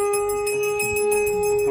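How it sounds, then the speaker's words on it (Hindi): A conch shell is blown as a household arrives home during a village Raksha Bandhan sacred-thread ritual: one steady, bright, sustained horn-like tone with rich overtones holds throughout, loud and unbroken, with faint background commotion beneath. "जैसे हम घर पहुंचते हैं तो शंख बजाई जाती है"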